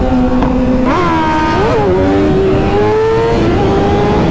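A loud Kawasaki ZX-6R motorcycle engine revs up sharply, then holds a rising, sustained drone as it pulls away, close and continuous.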